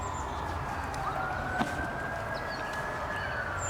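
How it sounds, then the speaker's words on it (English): Ambulance siren wailing in the distance at an outdoor flood-warning disc golf round, a long rising-and-falling tone drifting steadily beneath broad ambient background noise, faint and continuous throughout. "Ambulance not the distraction today."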